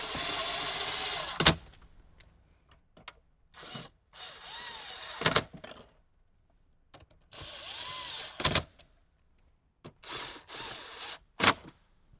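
Power tool driving bolts back into a Toyota Tacoma dashboard, heard as short separate bursts of whirring with quiet pauses between them, close and fairly soft, with no talk.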